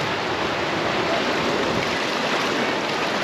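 Rushing water on the Los Rapidos log flume ride at Fort Fun Abenteuerland, a loud, steady, broadband roar of churning water that fills the whole stretch without a break.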